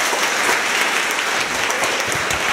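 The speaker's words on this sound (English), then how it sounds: "Please give him a warm welcome and a round of applause" An audience applauds steadily as Congressman Joe Crowley is welcomed at a Coalition for Queens Access Code demo day, a dense, even wash of clapping filling the room throughout.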